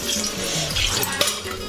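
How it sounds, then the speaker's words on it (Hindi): Water splashing and pouring into a cooking pot of vegetables (eggplant, drumstick, potato) close by, with a short clatter of cookware partway through. "पानी डाल देते हैं संगवारी को"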